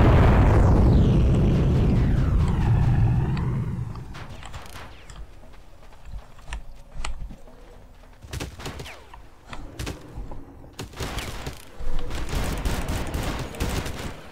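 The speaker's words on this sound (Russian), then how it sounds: "Кто стреляет?" Gunfire in the Far Cry video game arrives as a heavy boom fading out, followed by scattered sharp shots and bursts, some close and loud, others more distant, spread irregularly across the stretch.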